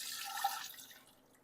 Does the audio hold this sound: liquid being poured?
yes